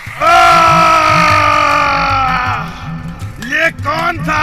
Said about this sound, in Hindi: मटका फूटते ही भूत चिल्लाने लगता है